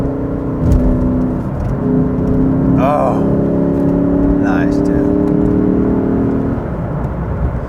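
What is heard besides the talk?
Lexus RC F exhaust while accelerating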